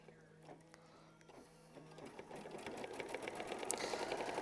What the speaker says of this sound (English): So now we're going to go ahead and hit start and sew machine stitch step 10.